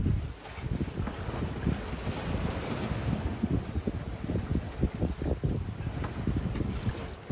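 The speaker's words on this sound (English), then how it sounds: "It's just the swells that make the boat move, rock back and forth." A sailboat on open water rocks in swells under an 18 to 20 knot wind, with steady wind and microphone rush over low sloshing and thumping water that rises and falls irregularly throughout.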